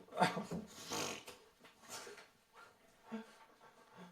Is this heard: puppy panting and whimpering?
yes